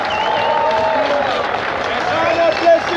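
A crowd in Leiden applauds and cheers for plastic soup surfer Merijn Tinga on his arrival, a steady mass of clapping with a babble of voices mixed in throughout.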